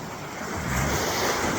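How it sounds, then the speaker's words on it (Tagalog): Strong ocean waves crash on the beach at Dingalan in a close, heavy wash of surf, with wind buffeting the microphone and the roar swelling slightly toward the end. "Ang lakas ng alon"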